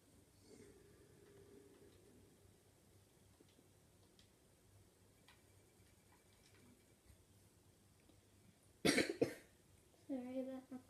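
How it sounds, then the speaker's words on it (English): Two bursts of coughing near the end, the first harsh and loud, the second a shorter rough cough, after a stretch of quiet room noise. "Sorry about my cough"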